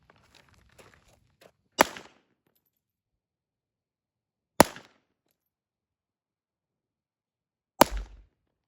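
Kel Tec P17 pistol firing three sharp, loud single shots spaced a few seconds apart outdoors, preceded by faint handling clicks.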